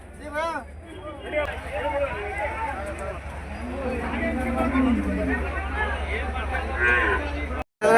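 Cattle and calves, among them HF and Jersey calves, low and moo loudly at a busy Wednesday cattle market in Honnali, Davangere, with repeated bellows and a constant din of crowd chatter and people talking beneath them.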